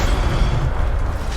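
Casting the Incendio fire spell in Hogwarts Legacy gives a dense, booming rush of low fiery roar that stays loud through the whole moment.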